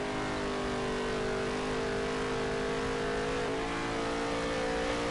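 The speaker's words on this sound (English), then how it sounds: "you can hear me kind of feathering the throttle" A race car engine at The Big T 50 on Taggart County Speedway holds a steady, close drone under light throttle feathering, with smooth continuous harmonics and a slight pitch dip near the end.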